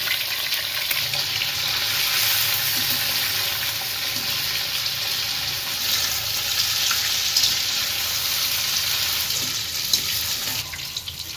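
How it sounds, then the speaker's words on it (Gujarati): Paneer frying in about a hundred grams of hot oil for palak paneer, a steady, dense hiss and crackle of sizzling that fills the whole stretch without pause. "તેલ આપણે સો ગ્રામ જેવું ગરમ મૂક્યું છે પનીરને શેકી નાખીએ"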